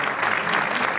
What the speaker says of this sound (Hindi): एक बार तालियां इन सब लोगों के लिए